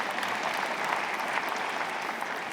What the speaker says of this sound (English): you kind of give me that polite applause